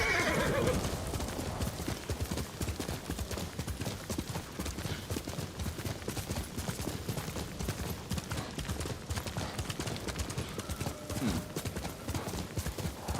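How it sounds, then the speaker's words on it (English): Horse hooves clip-clop steadily through a video game scene, with a horse neighing loudly near the start over constant game background sound. "Where's my horse?"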